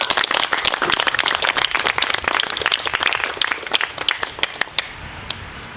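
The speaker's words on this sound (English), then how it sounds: "So one more round of applause for everybody that made that happen." An outdoor crowd at a 2019 Appalachian Trail climate event applauds, a dense burst of many hands clapping that thins out and fades over the last couple of seconds.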